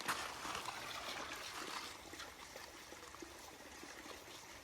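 A clear creek flows over boulders beside a waterfall on the Tea Kettle Falls Trail, a steady, soft rushing and trickling that stays even throughout with no voices.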